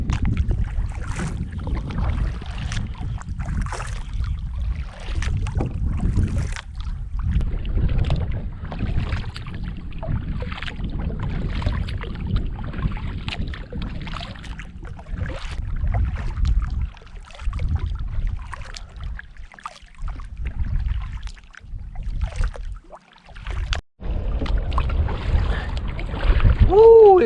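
Steady wind buffets the microphone while a paddle splashes and dips rhythmically through the water from a Lifetime Teton 100 Angler kayak, with gusts rising and falling throughout.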